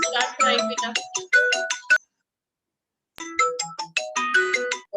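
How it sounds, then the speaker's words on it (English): A phone ringtone from a participant's unmuted microphone during an online maths class, its bright melodic tones playing in two loud bursts separated by a short silence. "We don't want to hear your ringtones."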